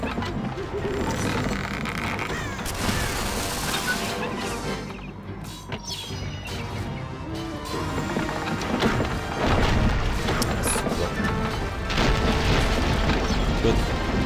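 Cannon fire and explosions pound a castle wall in the game Castle Strike, a dense, continuous run of crashes and booms with horse hooves and battle noise, moderately loud throughout.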